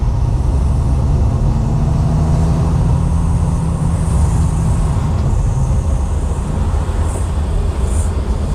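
A Triumph 2500 MK I saloon with power steering driving around the block, heard from inside as a loud, continuous low engine and road rumble with steady tyre noise and no voices.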